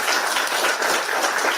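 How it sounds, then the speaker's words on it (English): Audience clapping at a live talk by Rahul Gandhi to students during a US visit, a dense steady patter of many hands filling the room without pause. "Now you're clapping"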